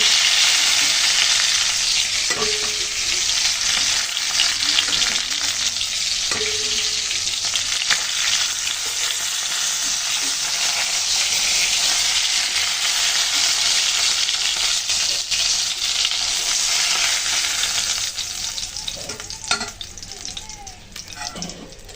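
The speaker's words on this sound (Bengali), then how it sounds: "মাছগুলোকে লালচে করে ভেজে নিলাম, এখন তুলে নিচ্ছি।" Tilapia pieces frying in hot oil for a Bengali curry: a loud, dense, continuous crackling sizzle heard up close. A few light utensil clinks come near the end as the fish is lifted out.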